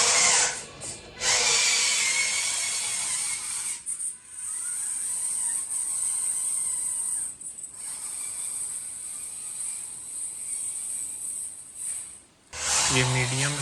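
Electric motor of a scale off-road RC car running in its lowest gear, a loud high whine that holds steady with brief dips and stops, close to the listener.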